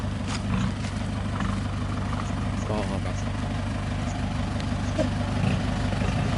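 A tractor and a dump truck idle at a garden plot being filled with soil, a steady low chugging engine drone that runs continuously while someone talks nearby.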